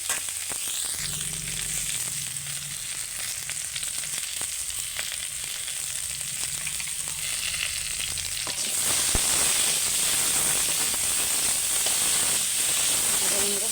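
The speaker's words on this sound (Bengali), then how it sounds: "ওই তেলেতেই আমি আলু টমেটো ভালো করে ভেজে নিচ্ছি" Potato and tomato pieces fry in oil in a pan, a steady sizzling hiss that grows louder and brighter partway through, with a few soft stirring clinks.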